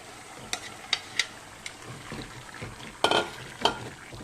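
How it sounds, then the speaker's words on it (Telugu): Marinated mutton, coated in salt, chili powder and ginger paste, going into a hot pan for a Telugu mutton curry, sizzling and frying steadily while a spoon stirs it with scattered clinks and scrapes; nobody speaks. "ఆ మటన్ నేను యాడ్ చేస్తున్నాను"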